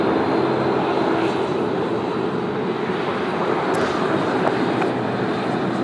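A Dash 8 propeller airliner passes near Sydney Airport on a morning without prop glow, its steady broadband engine roar holding loud and constant from start to finish with no one talking.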